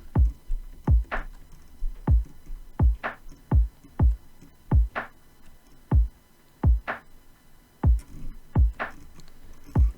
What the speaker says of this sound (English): Then we got these electronic drums, which are a kick, a snare, and a hat click. They sound like this.